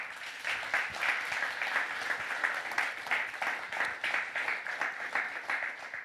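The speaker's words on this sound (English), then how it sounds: "Give them a round of applause" An audience at a comic art festival claps for the volunteers, a sustained round of moderately loud, dense hand-clapping with a slightly uneven rhythm that continues steadily throughout.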